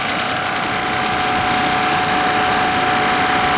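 A refrigerant recovery machine pulls refrigerant out of a leaking system, a loud, close, constant motor and compressor hum with a steady vibrating drone and no pauses.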